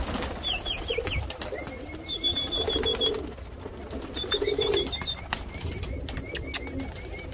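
Roller and high-flying pigeons at a loft in Surat give repeated soft coos, joined by occasional wing flaps and other bird calls, moderately close against a light background hum.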